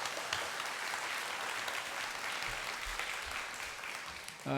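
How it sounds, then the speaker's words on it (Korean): A church congregation applauds two course graduates during a Sunday service, soft, distant clapping rolling on evenly before a voice cuts in at the very end. "우리 2분이 수료하셨는데 뜨거운 박수로 축하해 주시기 바랍니다"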